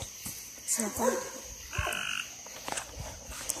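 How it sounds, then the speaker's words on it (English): Frog croaking outdoors during a search for frogs, a few short, rough croaks spaced unevenly over a few seconds, fairly close, amid faint background noise and no clear talking. "We found another frog."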